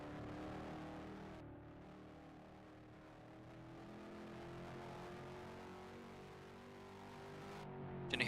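Race car at the Peach State Trophy at East Albany, a faint engine drone climbing steadily in pitch as it accelerates, with brief dips where it shifts gears.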